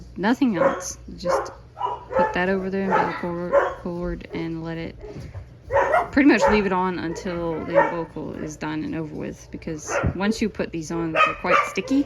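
Dogs bark intermittently in the background indoors, some yips and whimpers mixed in, while a person talks steadily over them at close range.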